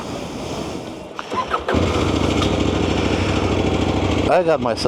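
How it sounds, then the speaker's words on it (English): A Cove 800X motorcycle ridden slowly across an indoor motorcycle expo floor, its engine starting and then holding a loud, steady rumble close by as someone talks over it. "on the Cove 800X, and I'm gonna make a right old racket through here."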